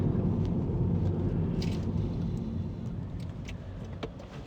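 A car drives steadily around a roundabout on the road between England and North Wales, its engine and tyre rumble forming a constant, close, moderately loud drone with no talking.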